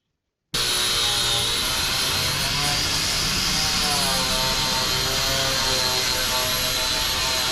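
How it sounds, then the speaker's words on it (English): A conical steel wire wheel on a power tool scours rust off angle iron, giving a loud, steady, unbroken whir and rasp that starts abruptly and carries on without pause. "Here I'm using a conical shaped steel wire wheel."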